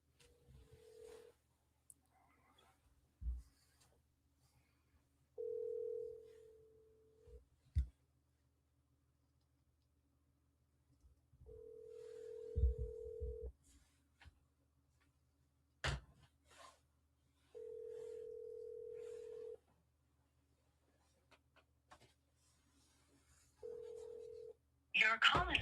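An outgoing phone call rings out as repeated steady ringback tones, each lasting a couple of seconds with long gaps, heard over a quiet line with occasional clicks and brief voices.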